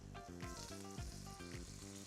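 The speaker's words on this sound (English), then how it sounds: "We hear a sizzle, right?" Meat, beef or pork, sizzles steadily in a Lodge cast iron pan for Bolognese, a loud continuous frying hiss alone, overlaid by a strong musical tone pattern.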